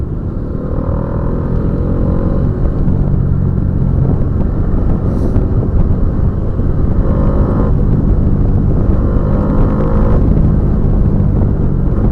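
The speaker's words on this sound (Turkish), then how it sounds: "Ama bunun egzozundan bir farklı ses çıkıyor." A Bajaj Dominar 250 motorcycle engine drones steadily while riding, with wind buffeting the microphone and the exhaust note rising and falling slightly.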